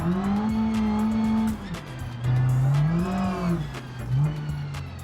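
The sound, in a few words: turbocharged modified Renault Twingo engine in BeamNG video game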